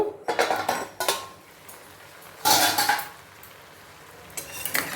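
A plate used as a lid clatters off a pan of raw banana fry on the stove, with metallic clinks and scrapes in several bursts, the loudest near the middle, over a faint cooking sizzle.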